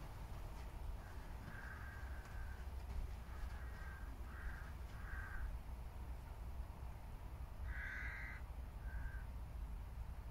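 A crow down the course caws several times in short harsh bursts, some in quick pairs, distant and fairly faint over a steady outdoor rumble.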